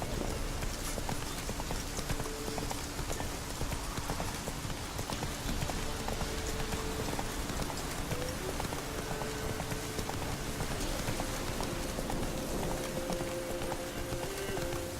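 Horse hooves clip-clop at a steady trotting pace in The Witcher 3 over a dense, hissy background, like rain or ambient game sound.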